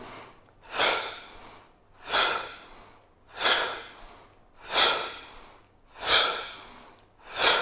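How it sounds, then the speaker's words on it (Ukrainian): Slow, deep breaths in a breathing exercise for bronchial asthma, with about six loud, close inhale-exhale cycles in an even rhythm and no talking. "Зверніть увагу, що грудна клітка розширюється вдих, стискається видих."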